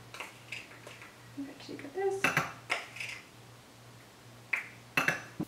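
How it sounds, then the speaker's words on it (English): A spoon scrapes and clinks against a mug while stirring dry keto brownie ingredients, including baking soda, in a few short bursts of scraping and tapping, close and fairly quiet. "Then you're going to want to mix those dry ingredients in just until it's well combined."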